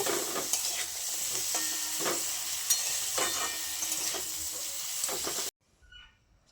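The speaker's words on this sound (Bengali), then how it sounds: "ভালো মতো করে নেড়ে চেড়ে সিমের সাথে ভালোভাবে মিশিয়ে নিতে হবে।" Flat beans stirred with turmeric powder in a pan, a gentle continuous sizzle with repeated soft scrapes and knocks of a spatula, cutting off abruptly near the end, no one talking.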